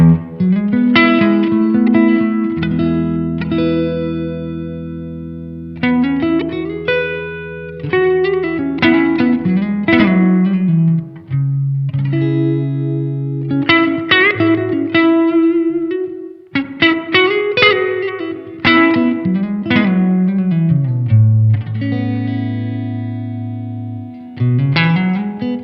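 Electric guitar played through an amp, clean melodic notes and sustained chords with noticeable reverb tails, no talking.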